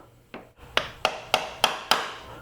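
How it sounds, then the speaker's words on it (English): Five or six sharp, evenly spaced hammer blows ring out close by, peening a lock washer over a torqued nut while changing sprockets on a 2019 Triumph Tiger 800 XCx motorcycle; each strike is crisp and metallic with a short decay. "Now we need to peen it over, peen our washer back over down on top of this to hold it."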